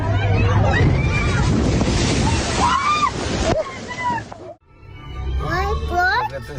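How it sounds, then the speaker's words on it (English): A big ocean wave slams into a whale-watching boat off Virginia Beach, producing loud sloshing water and wind roar. Excited voices shout over the crash, followed by a brief lull and then more yelling. "Look at this big wave coming, it's a monster"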